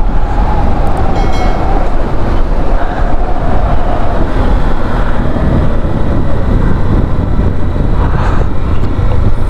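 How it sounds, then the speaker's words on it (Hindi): A Honda CB200X motorcycle cruises at 80 km/h on a highway, giving a loud, continuous roar of engine and road noise with heavy wind buffeting across the microphone. "आप देख सकते हो आराम से बाइक 80 की स्पीड पे जा रही है।"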